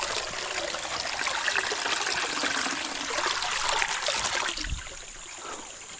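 Water trickling from a natural spring, a steady, close splashing flow that softens toward the end, with no talking.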